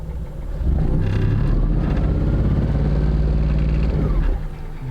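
A 2001 Honda Insight engine revs up in neutral during clutch burnishing, rising to a steady, loud, close drone held for a few seconds before dropping back toward idle.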